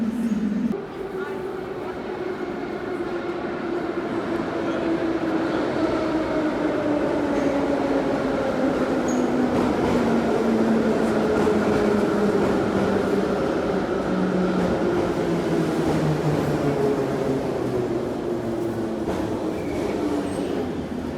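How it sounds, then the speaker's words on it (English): A Russian-era train in Kazakhstan rolls along steadily with a constant rumble and a long, slowly falling metallic whine from the wheels. "Russian era trains, but they said they're very reliable."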